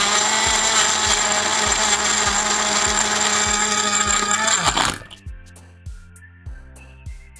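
A blender grinds in the Drinky Drinky Lit Club video game, a loud dense whirring roar over a rhythmic low thumping that cuts off abruptly, leaving the thumps beating on alone.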